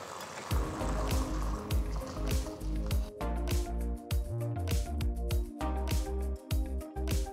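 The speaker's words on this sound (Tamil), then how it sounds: "இப்போ தண்ணியை வடிச்சிட்டு காயை தனியாக எடுத்துக்கலாம்." Water drains off boiled potatoes in a kitchen, with repeated sloshing, gurgling pours and soft squishy knocks of the pot, close and moderately quiet.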